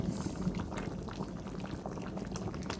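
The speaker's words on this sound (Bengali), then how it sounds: "ডিমটা দিয়ে আমি একটু নেড়ে ছেড়ে নিচ্ছি" Egg and sweet pumpkin cooking in a pan make a soft, continuous bubbling sizzle with light stirring movements, heard up close and without speech.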